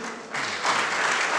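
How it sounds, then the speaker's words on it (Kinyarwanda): Church congregation applause during a choir's evangelism gathering, a broad, steady clapping that swells louder partway through and holds at full strength. "muhagurukire icyarimwe dukomere Imana amashyi"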